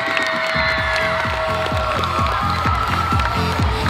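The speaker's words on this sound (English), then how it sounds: "Give the Bomb Squad a big round of applause and all of our athletes." Large all-star cheerleading competition crowd cheers and applauds a cheer team, a loud continuous wash of clapping and shouting over pounding rhythmic music.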